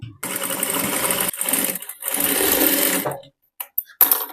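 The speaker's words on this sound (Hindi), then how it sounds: "तो मैं यहाँ पे एक सिलाई लगा दी हूँ" Electric sewing machine stitching an invisible zip onto a blouse, running in several bursts of steady whirring with short pauses between them and a few brief stops and restarts at the end.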